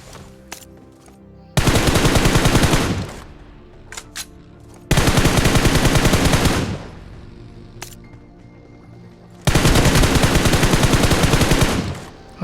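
Three long bursts of rapid automatic gunfire in the battle royale game PUBG, loud and close, each burst lasting about two seconds with quiet gaps between them.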